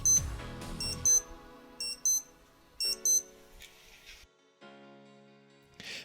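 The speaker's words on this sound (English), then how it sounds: "When the alarm sounds, it can be silenced by pressing the crown in." Alarm of a Breitling Aerospace watch sounding as short, bright electronic beep bursts in repeated clusters, fairly close and alone.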